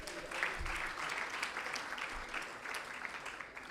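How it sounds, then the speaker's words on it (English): Audience applause at an elders' celebration event, a steady, fairly faint wash of clapping heard from a distance, with a few low thumps underneath. "Can we have another round of applause?"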